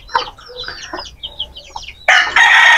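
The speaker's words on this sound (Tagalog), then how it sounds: "At ayan yung mga natin sisiw." Chickens on a farm after a super typhoon cluck and peep in short, close calls, and a louder, sustained crowing-like cry from a rooster or hen bursts in at the end.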